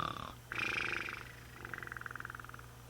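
A voice imitates snoring during a Spanish children's story: a nasal drawn-out buzz, then a rhythmic pulsing snore that rattles in quick regular beats, faint and close, with a low hum underneath.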